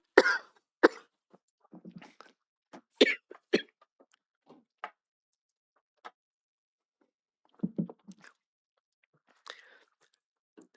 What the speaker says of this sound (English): sorry, I'm going to cough now.